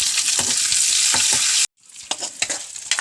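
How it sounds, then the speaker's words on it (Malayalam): Cashews and raisins frying in a pan for rice payasam: a steady, loud sizzle with stirring scrapes, a brief cut to silence, then the sizzle returns with more irregular crackles, and no talking. "അണ്ടിപ്പരിപ്പും മുന്തിരി വറുത്തെടുക്കാം."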